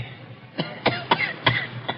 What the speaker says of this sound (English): There's the cough again.